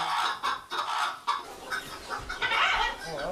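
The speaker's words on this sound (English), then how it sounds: "Oh, there's chickens everywhere." Hens clucking indoors inside a house, a busy run of repeated clucks and squawks from several birds, close and fairly loud, with no voices.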